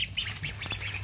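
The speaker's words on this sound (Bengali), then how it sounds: "হাঁসের বাচ্চা।" A Pekin (Peking Star 13) duckling quacks in a rapid series of short, high calls, close and clear over a faint low background hum.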